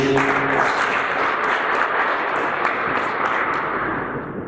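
A conference audience at the close of the first Chadian School of Internet Governance applauds steadily, a dense wash of clapping that holds throughout and begins to fade toward the end.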